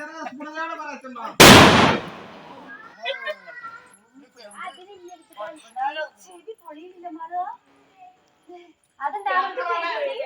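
During a Vishu celebration, one sharp, loud firecracker bang bursts out near the start and fades quickly. Voices, including high, child-like ones, talk and exclaim on and off for the rest of the time.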